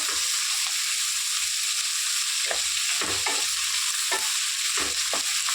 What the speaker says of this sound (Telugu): లైట్గా ఫ్రై చేసి తీసుకొని మిక్సీ పట్టేసుకోవటమే